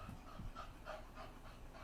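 A dog pants in quick, soft, rhythmic breaths, fairly faint and close, repeating evenly for a couple of seconds with no other sounds over it.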